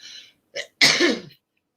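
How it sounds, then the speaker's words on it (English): A few short, sharp coughs in quick succession, close and fairly loud, separated by brief silences. "I've got a cough, hold on."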